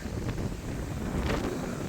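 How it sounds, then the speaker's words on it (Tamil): Strong wind buffets the microphone on a hilltop viewpoint at Kurusumalai in Kanyakumari, a continuous loud rumbling roar with gusty swells and no talk. "பேர் வந்தாலும் காற்று பயங்கரமாக இருக்குது"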